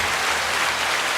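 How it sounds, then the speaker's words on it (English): A canned applause effect triggered from a clap button during a podcast, a short, dense burst of clapping with no voices over it. "Push the clap button."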